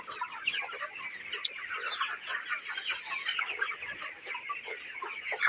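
Broiler chickens cluck and chatter continuously in a poultry shed, many overlapping close calls forming a busy, steady flock murmur with occasional sharper squawks.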